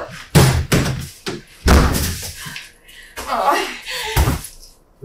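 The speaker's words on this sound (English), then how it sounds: "she kicks open the door and makes a loud noise as she comes in" A door is kicked open with a loud, sharp slam during a short-film take, followed by further heavy thuds and bumps at close range, with some voice-like sound mixed in between the impacts.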